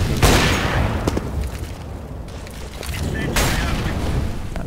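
A grenade blast in a tactical team shooter game, a loud burst near the start followed by a second boom a few seconds later, set among scattered gunfire and game noise with players talking over it.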